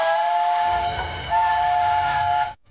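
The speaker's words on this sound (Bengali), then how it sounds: "ট্রেনের হর্ন বেজে গেছে আর আপনার সব জিনিসপত্র ভেতরে আছে।" A departing train's horn blares loud and close in a sustained tonal blast, briefly dipping before resuming and then cutting off sharply.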